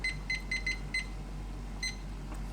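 Kitchen timer being set beside a stovetop pan of simmering sauce, giving several short electronic beep pairs in quick succession, then a single beep after a pause, under a low steady hum.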